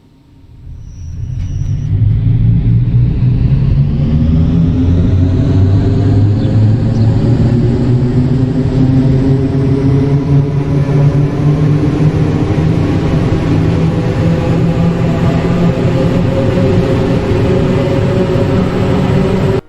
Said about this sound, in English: the motor sounds emit from the trailer cars